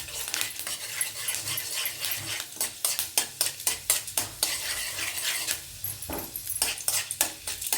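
Urad dal sizzling in hot oil for tempering, a close, continuous frying crackle mixed with clinks and scrapes of a spoon against the pan, moderately loud and busy throughout, with no talk.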